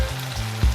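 Ground turmeric and chili powder hit hot oil for a mutton keema and chickpea curry, giving a brief, close sizzle with a soft thump of the spoon near the end.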